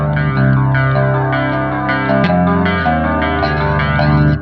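Distorted metal electric guitar played near the bridge through a Positive Grid Spark amp with reverb and modulation, giving a thin, shimmering, chorused tone; a few seconds of loud, sustained chords with no talking.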